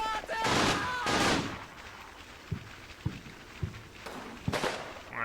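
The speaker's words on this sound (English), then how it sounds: "I think I heard firing from here as well" Gunfire in the Combat Mission wargame: two long bursts of automatic fire early on, then scattered single sharp shots and another burst near the end, fairly close and loud.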